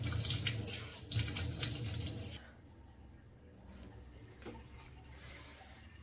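Water runs from a tap while someone washes their face as part of a skin-care routine, with a loud, steady gush for a couple of seconds before it drops to a quieter trickle.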